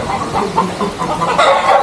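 Several chickens cluck and murmur in short, overlapping bursts close by, with a busy farmyard background and no speech.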